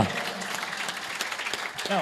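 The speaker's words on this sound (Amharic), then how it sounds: "እልልታ ጭብጨባ" Clapping from a gathered crowd mixed with a voice carrying over it, lively and close, with a brief rising tonal cry near the end that could be ululation.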